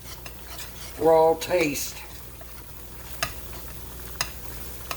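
Flour is stirred in a hot pan while making roast beef Manhattan gravy, with a faint sizzle, a voice speaking briefly and a few sharp clicks of a utensil against the pan.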